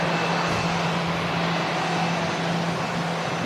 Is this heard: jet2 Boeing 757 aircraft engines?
yes